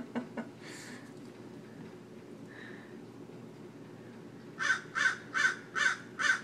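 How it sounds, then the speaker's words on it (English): A bird calls with five evenly spaced, fairly loud cries at the end, after a few earlier faint calls over quiet outdoor background. "do you hear a bird?"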